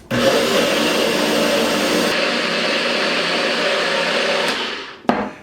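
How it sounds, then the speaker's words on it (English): A blender whirring loud and close as it purées wing sauce with hot red chilies, soy sauce and garlic, running steadily for about five seconds before cutting off with a short clunk. "Put our lid on. Blend it up."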